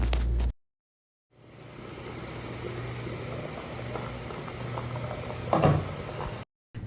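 Rice simmering in a covered pot for chicken mandi, a steady low bubbling and rumbling hiss that holds evenly for several seconds, with a brief louder rattle near the end and no talk.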